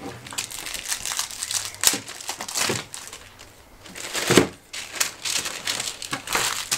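A bag of potato chips crinkles and crackles as it is pierced open, in bursts of crisp rustling with brief pauses, close to the microphone and loud, with no speech over it.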